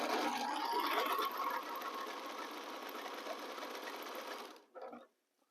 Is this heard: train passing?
no